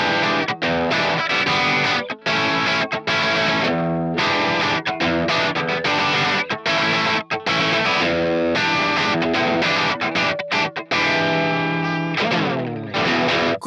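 Electric guitar with a single-coil bridge pickup played through distortion, a dense, loud, continuous run of aggressive chords and riffs with brief gaps, on a mid-range guitar compared against Les Paul, Tele and Strat types.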